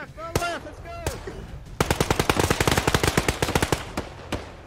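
Machine gun fire in the Arma 3 video game, a rapid sustained burst of loud rounds after a few single shots, with radio-style voices talking early on.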